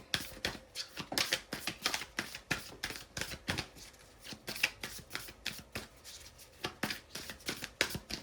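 A deck of spirit animal oracle cards being shuffled by hand, a steady run of crisp riffling slaps and flicks repeating roughly every half second, close and fairly quiet with no talking.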